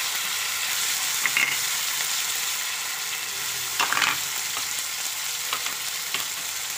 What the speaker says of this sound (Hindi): अब डालते हैं इसमें धुली हुई मटर और सभी मसाले डाल करके मिला लेते हैं